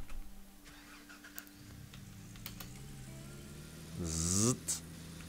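A pickup truck's engine cranks and catches in the Gold Rush mining simulator, a short rising start near the end after quiet ticking, loud and close with no talk over it.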